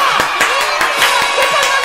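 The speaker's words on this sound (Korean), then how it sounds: "드디어 100화를 맞았으므로 모두 박수를 쳐주시기 바랍니다" A small group claps in applause, with quick, rhythmic hand claps that are fairly loud and close, mixed with crowd murmur and voices.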